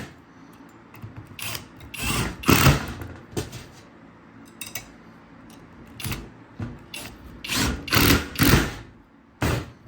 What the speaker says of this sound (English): So I started a screw right here.